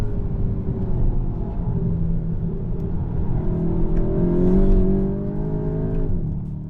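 A Volkswagen Golf GTI's engine drones steadily while driving on a handling track in India. It swells to a louder, higher-pitched rev midway, then eases off, heard close with no talk.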